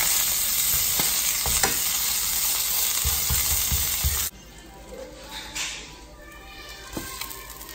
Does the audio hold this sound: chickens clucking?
no